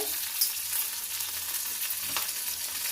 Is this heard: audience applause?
no